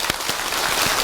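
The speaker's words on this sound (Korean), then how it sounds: "박수를 치면서" Congregation at a Buddhist dharma talk in a temple gives a short burst of dense applause, a continuous broadband patter of many hands with no voice over it.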